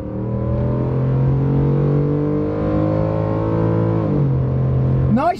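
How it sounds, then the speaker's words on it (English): A Ford F-150 V8 engine accelerating hard at full throttle from a stop, loud rising drone heard from inside the cab, one gear shift near the end and continuing to climb. "You can hear that engine going."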